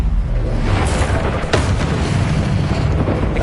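Fire spell cast in the Hogwarts Legacy video game: a loud, dense whoosh and crackling roar with a sharp burst near the middle, sustained through the whole moment amid other combat effects.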